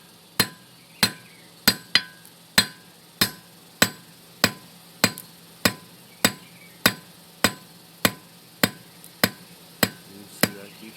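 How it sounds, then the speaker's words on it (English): A blacksmith's hammer strikes hot steel while forging a fork, about eighteen sharp ringing blows at a steady, slightly uneven pace, each with a brief metallic decay, loud and close with no talk. "Hammer now a little bit more."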